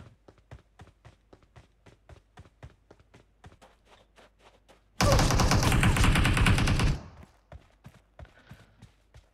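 Gunfire in a shooting video game: sharp single shots tick steadily throughout, broken by a loud dense two-second burst of rapid automatic fire in the middle, with no talk over it.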